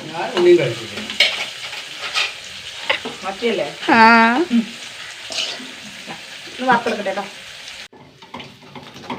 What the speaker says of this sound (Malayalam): മീനൊക്കെ വറുത്ത് റെഡി ആയിട്ടാണ്